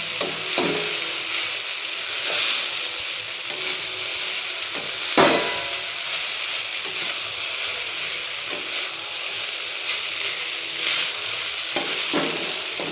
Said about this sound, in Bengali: আলু ভাজাগুলো আছে উপর দিকে ভালো করে অনেকটা ভালো করে মিক্স করে নিতে হবে